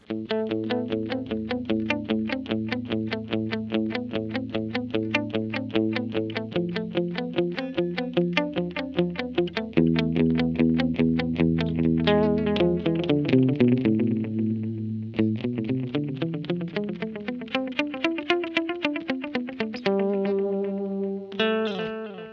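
Electric guitar played through a VOX AC30 amPlug 2 headphone amp, a steady run of distorted, chorus-tinged notes and chords with echoing repeats, continuous and alone without talk.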